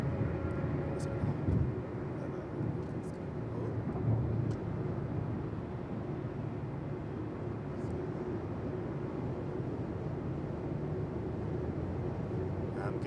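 A car drives along with its engine under steady throttle, a continuous low rumble and road drone heard from inside the cabin.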